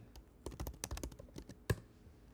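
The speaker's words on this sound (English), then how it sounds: "So I will type in" Quiet clicks of someone typing on a computer keyboard during a game session, an irregular run of key taps with a brief louder press near the end, close and faint with no talking.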